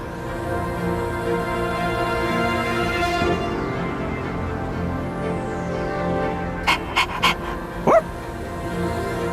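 Koromaru, the dog in Persona 3 Reload, yips a few times near the end: a quick cluster of three short barks followed by one more, over steady game music with no talk.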